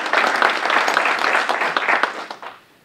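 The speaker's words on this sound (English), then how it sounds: "So let's give a round of applause for Don." A crowd applauds steadily for a couple of seconds, dense clapping that tapers off quickly at the end.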